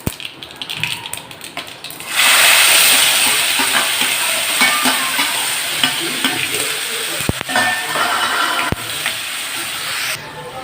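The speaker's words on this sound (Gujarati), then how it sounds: "તેલમાં થોડી એવી હળદર નાખીને આપણે જે આ ડુંગળી અને ટામેટાની ગ્રેવી કરી છે તે ઉમેરી દઈશું" Onion-tomato gravy poured into hot oil with turmeric and asafoetida, hitting with a sudden loud hiss after a quieter start and then holding a strong, continuous sizzle for several seconds, with a few sharp clicks.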